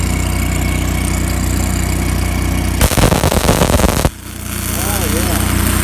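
A Hobart Handler 180 flux-core welder, left out in the weather for a year, runs a short bead on a steel test plate, giving a loud, dense crackling burst of about a second over steady background hum.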